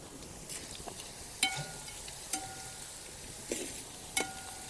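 Jackfruit pieces frying in hot oil give a steady, soft sizzle, with a few sharper crackles and stirring clinks standing out now and then.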